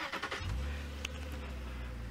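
Safari vehicle engine revving as it turns around, a low close rumble that swells after a few quick starts and holds steady, with no voices.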